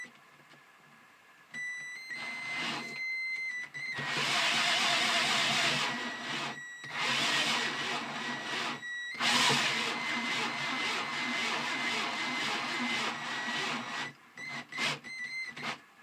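A two-stroke Crecy-type Briggs sleeve valve drive mechanism with a piston runs in bursts, giving a close mechanical whirring and clattering with tonal hum that starts and stops several times.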